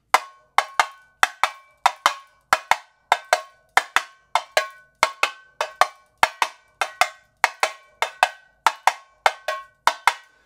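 Tamborim struck alone in the carreteiro 3x1 rhythm, sharp bright metallic hits falling in short repeating groups with small gaps, close and crisp over about ten seconds.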